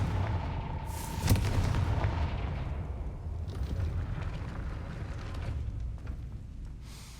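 A Confringo blasting-spell explosion in a Harry Potter video game, a loud boom bursting out near the start with a rumbling roar that slowly decays over the following seconds, no speech.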